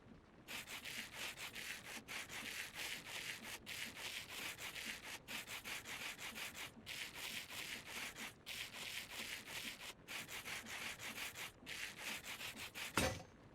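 Steady rhythmic scraping of sandpaper sanding in Minecraft's Create Astral modpack, repeated strokes in even bursts of about a second each, continuous and fairly loud with no talking.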